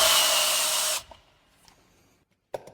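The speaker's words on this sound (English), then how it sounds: "To clean the hub, it is best to use a wheel hub grinder." A wheel hub grinder whirs loudly against a wheel hub for about a second, then cuts off, leaving faint clicks and a short knock afterward.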